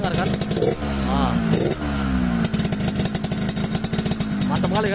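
A 2004 Yamaha RX King two-stroke motorcycle in Medan style with a loud, gurgling snore at idle, running steadily close by with a few short revs rising and falling in pitch.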